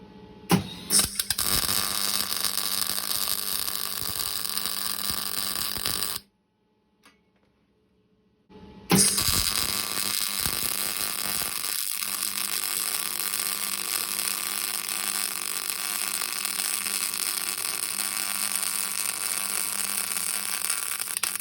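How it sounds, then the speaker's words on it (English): MIG welder with wire feed running lays a bead on a scrap-built welding carriage, a loud continuous crackling hiss broken by one short silent gap before resuming steadily. "So I'm going to start welding, start the feed going, and we'll see what bead looks like afterwards."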